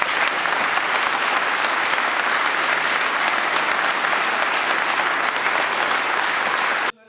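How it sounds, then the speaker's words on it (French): Loud, dense applause from a gathered crowd honouring a retiring police officer, a continuous roar of many clapping hands that cuts off abruptly at the end. "nous t'applaudissons fortement"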